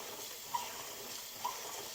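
Freshly harvested elderberries being rinsed in water, a faint steady wash of running water with two soft clinks.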